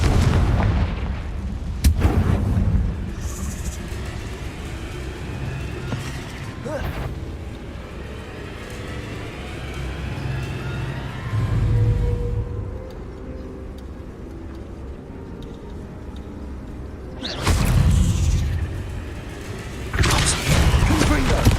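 Repeated Confringo fire-blast spell explosions in the video game Hogwarts Legacy, loud booming bursts at intervals with rumbling low-end tails and combat noise between them, a voice speaking over parts of the fight.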